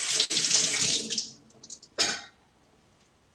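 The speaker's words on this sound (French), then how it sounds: "Une fois que vos patates douces sont pelées, on peut les rincer sous l'eau." Peeled sweet potatoes rinsed under a running kitchen tap: a loud gush of water for about a second, fading out, then a brief second splash before quiet.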